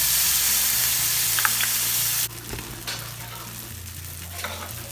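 Garlic and onion browning in a pan sizzle with a steady crackling hiss, close and loud; the sizzle softens partway through as tomatoes are added, with a low background hum.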